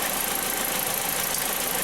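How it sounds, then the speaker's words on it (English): A Volkswagen car engine idles steadily, a continuous close rumble with a hissing edge and no pauses or talk over it. "we have the engine running now with this disconnected"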